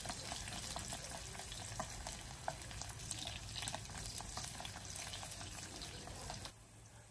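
Steady, dense sizzling of garlic frying in hot oil, close and continuous, with faint stirring scrapes and no talking.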